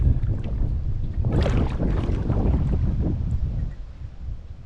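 A solo canoe is paddled on a lake in Temagami, with soft swishing strokes through the water that swell and fade, mixed with steady wind buffeting the microphone.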